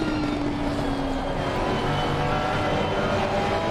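Ferrari GT race cars in close battle at Brands Hatch in Assetto Corsa Competizione, a steady loud engine drone with rising and falling pitch as the cars run nose to tail.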